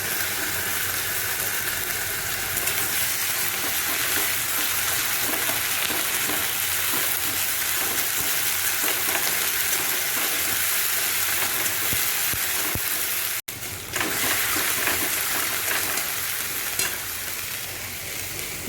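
Ginger paste frying in a pan for an egg and potato curry, giving a steady, close sizzle that runs unbroken apart from one brief dropout near the end.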